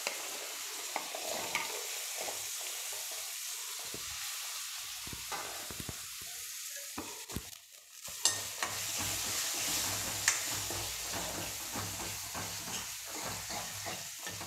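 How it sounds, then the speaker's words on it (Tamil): Onions, chillies and curry leaves sauté in a pan for sambar, a close crackling sizzle broken by repeated stirring scrapes, growing louder and busier in the second half. "இப்போ நம்ம இந்த வெங்காயம் மிளகாய் கருவேப்பிலையே போட்டுடலாம்."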